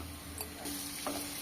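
Mango ginger pickle paste with turmeric powder sizzles and fries steadily in hot oil while being stirred, a continuous close hiss with a few brief clinks.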